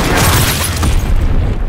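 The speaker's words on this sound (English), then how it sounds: "Fire in the hole! Enemy bomb incoming!" A heavy bomb explosion in a World War II video game set in the Ardennes Forest, a loud, dense, rumbling roar filling the whole moment with no clear onset or break.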